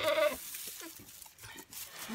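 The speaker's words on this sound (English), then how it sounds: "this is the little baby goat that we're gonna do" A baby goat being treated for entropion gives a short, faint bleat at the start, followed by quiet rustling and handling sounds, close to the listener.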